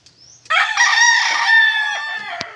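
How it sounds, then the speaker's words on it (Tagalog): A single drawn-out wild junglefowl rooster crow, loud and close, rising sharply then holding steady before trailing off. "Yun yung tilaok niya idol, parang na."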